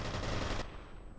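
A grenade bursting in midair in the F.E.A.R. shooter game, a loud, dense blast of gunfire-like noise for over half a second that then cuts off into a quieter, fading rumble.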